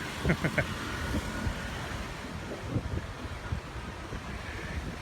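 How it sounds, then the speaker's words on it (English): Wind blowing over a beach in low season, a steady rushing roar with buffeting on the microphone. Someone talks briefly and faint surf or traffic rumbles underneath. "It's a bit windy today"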